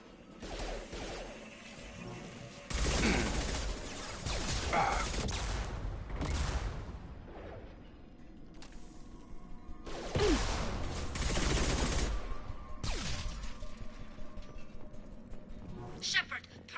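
Shotgun blasts in a PS4 video game come in heavy bursts, two dense clusters of loud shots with clattering impacts, mixed with voices talking over the combat.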